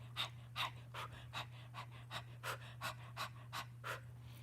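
A voice imitates labour panting, a steady run of about a dozen short, breathy huffs at an even quick rhythm, close but quiet over a low steady hum.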